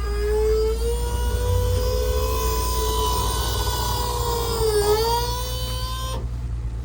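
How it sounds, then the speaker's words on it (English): The electric trunk pump of a Brabus car runs with a loud, strained, steady whine, dipping briefly in pitch near the end before cutting off abruptly. "The pump is very angry, but it works."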